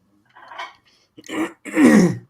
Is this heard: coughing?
yes